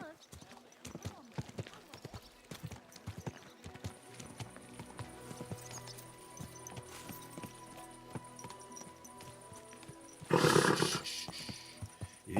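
Horse hooves clop in an uneven rhythm at close range in Kingdom Come: Deliverance II, mixed with scattered thuds and rustling, then a brief loud burst of noise near the end.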